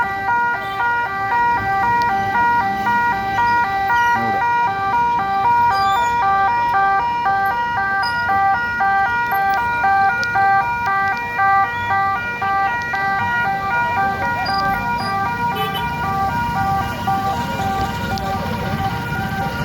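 An ambulance siren wails at a road accident scene in Talapady, a repeating two-tone rising and falling cycle sounding steadily for the whole stretch over road noise and a low background rumble.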